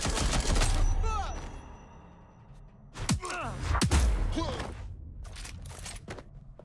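Gunshots in the action game Watch Dogs: Legion: a heavy burst at the start, then sharp cracks around the middle, mixed with shouted voices and fading into quieter scuffling.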